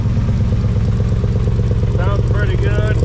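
A 1980 Chevy C30 dually runs with a glass pack exhaust, making a loud, steady, throbbing idle with a rapid even pulse. A voice comes in over the engine near the end.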